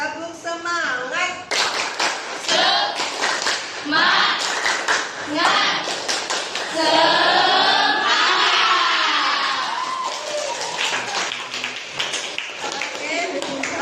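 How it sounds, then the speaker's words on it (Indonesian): A school class performs a tepuk semangat spirit clap. Loud, rhythmic bursts of group clapping mix with children's chanting and shouting voices, close and energetic for the whole stretch. "Boleh minta tepuk semangatnya terlebih dahulu?"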